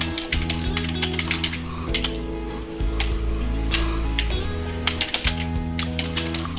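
Typing on a computer keyboard while working in an online video editor, with rapid bursts of close, crisp key clicks that come in irregular runs over a steady low background hum.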